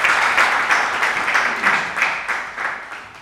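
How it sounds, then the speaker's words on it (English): Audience applause at a manifesto launch, a steady wash of many hands clapping throughout with small swells, no voices heard over it. "Another round of applause for our able Madam President."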